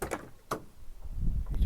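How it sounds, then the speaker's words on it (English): Rear barn door on an Elddis Compass caravan being opened partway, giving a couple of sharp close clicks and knocks, then a low rumbling swing and scrape as it moves. "You've also got entry by the rear barn doors."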